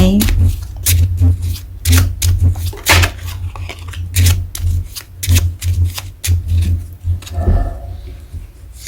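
Tarot cards are shuffled close up in rapid, repeated riffling bursts, loud and continuous for several seconds.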